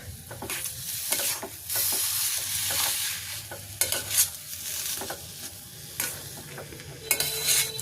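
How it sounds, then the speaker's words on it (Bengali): Potato filling with chopped coriander leaves being stirred in a hot pan, loud repeated scraping strokes over a continuous sizzle, close up with no talking. "এটা দিয়ে একটু সময় একটু নাড়িয়ে নেব, এই ধনিয়া পাতা কুচিটা একটু নরম হবে তার জন্য।"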